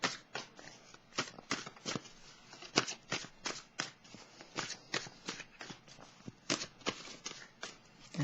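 A deck of tarot cards is shuffled and drawn by hand, giving a steady run of close, crisp riffling and slapping bursts with no voices.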